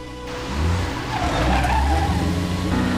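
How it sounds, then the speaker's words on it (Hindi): A car pulls away with a loud skid and tire squeal, engine roaring steadily close by for a few seconds with no one speaking. "ओ कहाँ ले जा रहे हो मेरी गाड़ी को?"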